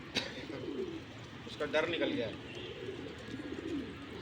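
Pigeons coo softly in a low, throaty murmur from a loft or rooftop kept for pigeon flying, while people talk in Hindi over them.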